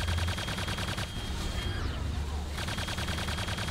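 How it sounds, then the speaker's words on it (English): Enemy gunfire aimed at the player in Quake II, a steady barrage of shots under a constant low game hum, with no talking over it. "Why is there stuff shooting me from there?"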